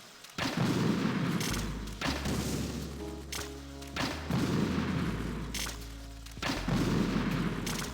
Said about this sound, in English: Use a grenade launcher for the rest of them.